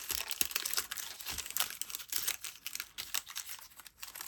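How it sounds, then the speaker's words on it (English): A Disney Lorcana single-player card deck's packaging is opened up close, with continuous crinkling and tearing of plastic wrap and card stock in irregular bursts, quiet and alone. "let's open the deck"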